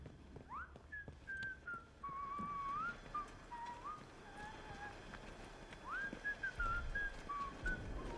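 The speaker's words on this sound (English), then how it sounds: "Oh, somebody whistling. I don't know where from though." A person whistles a wandering tune in the Atomfall game, moderately loud and somewhat distant, in two phrases over a steady outdoor ambience with faint background noise and no speech.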